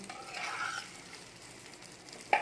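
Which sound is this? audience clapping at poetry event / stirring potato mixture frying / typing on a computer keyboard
stirring potato mixture frying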